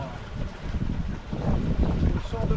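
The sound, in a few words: strong wind at sea on a sailboat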